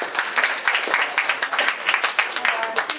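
An audience claps to welcome a speaker at a talk on flower essence therapy, a dense, steady patter of many hands across the room with a few brief voices underneath.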